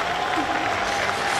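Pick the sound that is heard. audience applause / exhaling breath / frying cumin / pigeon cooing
audience applause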